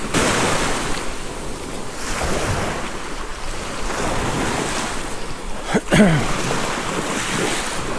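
Surf rolling onto Emerald Beach in Pasacao, Philippines, a steady loud wash of waves mixed with wind buffeting the microphone, with a brief thump near the end.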